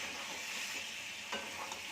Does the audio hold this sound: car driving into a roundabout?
no